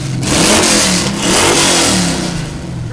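A 1962 Chevrolet Corvette engine revs with open headers, a loud, close, raw exhaust roar rising and falling through a couple of throttle blips before settling back toward idle.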